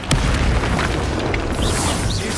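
A Confringo fire spell explodes in Hogwarts Legacy on PS5, one loud, sustained booming blast that rumbles through the whole moment without voices over it.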